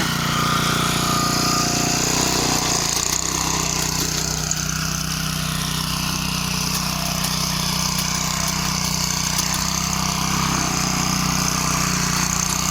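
A walk-behind motor cultivator working a field: a steady, loud, unbroken small-engine drone with a buzzing, rattling edge that holds the whole time without any pause.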